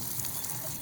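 Water poured onto dry potted plants makes a faint, continuous hissing trickle that stays steady and soft over a brief moment, with no talking.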